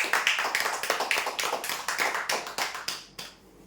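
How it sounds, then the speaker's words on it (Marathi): A small group claps at a Marathi prize-draw event, a short burst of close, uneven hand claps that trails off after about three seconds, with no talking. "जोरदार टाळ्या होऊ द्या यांच्यासाठी"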